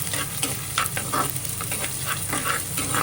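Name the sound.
green chilies frying in hot oil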